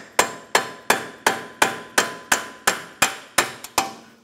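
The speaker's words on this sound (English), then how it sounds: "Hammer and punch right in the center here." A hammer strikes a punch set in the center of the front left CV axle on a 2003-2007 Honda Accord, eleven sharp metallic blows in a steady rhythm, close and clear with no talking.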